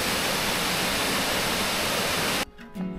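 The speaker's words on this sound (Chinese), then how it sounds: "清晨聽着溪水聲走路，真的很舒服" A mountain stream flowing near a waterfall on a forest trail to Taoshan, a loud steady rush of water that cuts off abruptly near the end.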